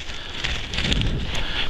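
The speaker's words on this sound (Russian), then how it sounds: "Ветер все сдувает." Wind blowing across a mountain ski slope, a steady broadband rushing roar with gusty buffeting against the microphone, loud and continuous throughout.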